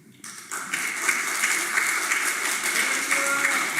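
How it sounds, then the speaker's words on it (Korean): Congregation applause in a university church during Sunday worship, welcoming a pastor to the front; a steady wash of many hands clapping that rises after a quiet start and carries on evenly throughout. "우리 박수로 환영해 주시면 고맙겠습니다"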